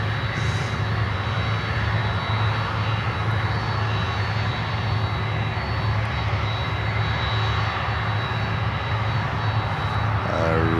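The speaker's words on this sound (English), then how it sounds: "This is the freighter with the roses on." A freighter aircraft carrying roses passes overhead, its engines a loud, steady roar that fills the whole stretch without a break.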